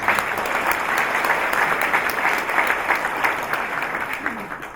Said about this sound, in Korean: 다 같이 박수로 환영해 주십니다